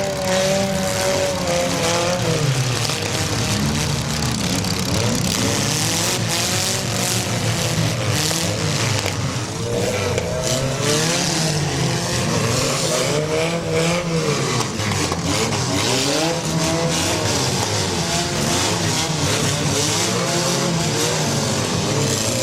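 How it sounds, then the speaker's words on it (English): A demolition derby car at the 2012 Athens County Derby is fired back up and rammed into another car's side: loud, continuous engine revving and roaring with grinding, clattering metal throughout, no voices. "Got that vehicle fired back up and going into the side of the number 62"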